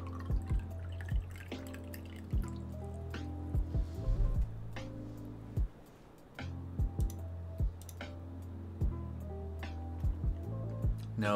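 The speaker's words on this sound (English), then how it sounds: "Pour some water while we wait." Water poured in Minecraft with the GregTech New Horizons modpack, heard as repeated short drip and splash blips over a steady low hum of game background sound, fairly faint, no talking.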